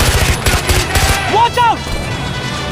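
Rapid automatic gunfire rattles in short close bursts during a Far Cry 4 firefight, with voices shouting over and between the shots.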